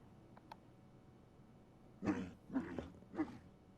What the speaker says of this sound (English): he just kind of shakes and barks and takes a couple steps